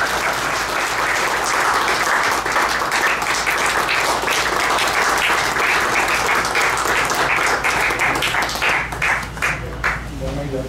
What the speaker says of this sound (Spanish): Un aplauso para el papá, por favor.